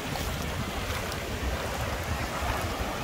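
Sea waves wash steadily onto Kỳ Ninh beach in Hà Tĩnh, a continuous broad surf rush mixed with heavy wind buffeting the microphone.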